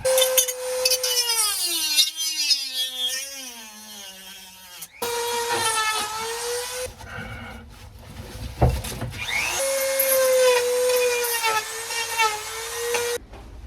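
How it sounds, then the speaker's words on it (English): A high-pitched power grinder whines and bogs as it grinds and sands a fiberglass boat hull, in long continuous passes with brief pauses. "I'm almost done with grinding, sanding, just general destruction."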